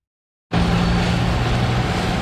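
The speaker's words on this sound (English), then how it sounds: "Roaring traffic rolling off the busy but aging Ambassador." Roaring traffic streams across the busy, aging Ambassador Bridge at Windsor, a steady dense rumble of road vehicles that starts abruptly after half a second of silence.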